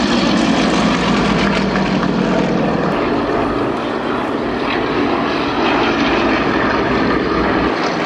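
Several propeller aircraft of a display team pass in formation at an airshow, a loud continuous roar of engines filling the whole stretch, with a slight dip midway before swelling again.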